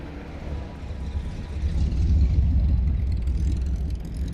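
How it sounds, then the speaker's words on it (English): An MGB GT V8 drives past at a classic and European car show in Yarra Glen, Australia, its low engine rumble swelling midway and staying fairly close before easing slightly, with no talking. "there goes an Mgb Gt V8"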